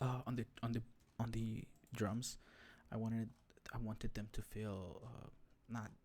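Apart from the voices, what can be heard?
None of the usual background noises is heard.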